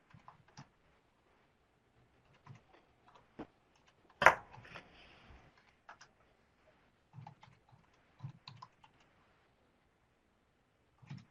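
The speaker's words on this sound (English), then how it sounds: "Many people are typing up." Several people typing on computer keyboards during an online supervision meeting, faint scattered clusters of key taps with one louder knock, quiet gaps between bursts.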